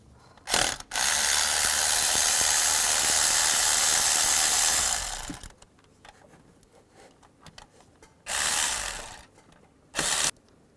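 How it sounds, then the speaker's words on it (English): A ratchet with a 13mm socket backs out exhaust valve bolts on a 2002-2009 Chevrolet Trailblazer: one long clicking run of about five seconds, a quiet gap, then two shorter bursts, close and loud. "Use a 13mm socket and take the two bolts out that hold this valve on"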